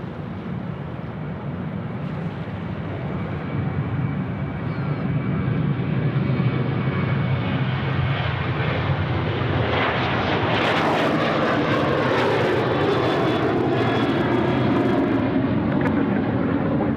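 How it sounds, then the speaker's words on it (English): A Qantas Boeing 737 takes off from Sydney Airport, its jet engines roaring loudly and building into a broad, sustained rumble that holds strong through the climb-out. "Enjoy the Qantas 737 now getting away on runway right."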